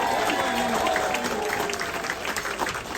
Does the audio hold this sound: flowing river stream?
no